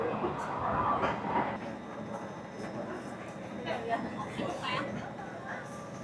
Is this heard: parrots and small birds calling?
no